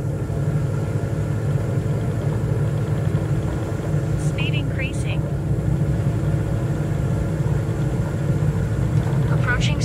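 A single-engine trainer aircraft at full power on its takeoff roll in Microsoft Flight Simulator, a steady loud droning engine rumble throughout, with someone talking over it.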